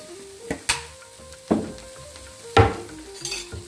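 Sambar powder stirred into palak dal sizzling in a pan, with a few sharp scrapes and clinks of a spoon against the metal over a steady low frying hiss.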